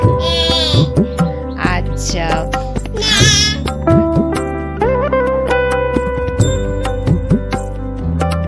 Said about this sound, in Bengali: ছাগল কেমন ডাকে